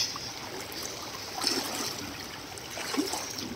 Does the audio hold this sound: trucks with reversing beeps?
no